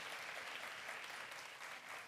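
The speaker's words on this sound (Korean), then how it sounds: "박수 한번 하겠습니다" A church congregation at a young adults' worship service claps in encouragement, a dense, even patter of many hands heard fairly faintly and at a distance, alone without talk.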